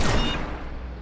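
A shotgun blast in Planetside 2, one loud booming shot that fades into a rumbling decay over about a second.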